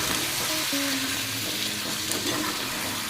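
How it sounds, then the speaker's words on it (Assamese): Coconut chicken curry paste sizzles steadily in a hot pan while being stirred, a dense, close frying hiss with soft scraping throughout and no voices. "জাষ্ট এইটো অকণমান লৰাই দিব লাগিব"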